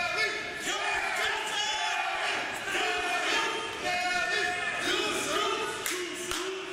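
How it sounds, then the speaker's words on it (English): A large professional wrestling crowd roars and cheers continuously, with shouts and whoops rising and falling over a loud, sustained din. "Listen to the crowd here, Brad."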